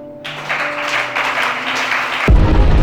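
Applause breaks out and builds into a steady wash of clapping, loud and sustained over a droning background, before cutting to a sudden low rumble at the end.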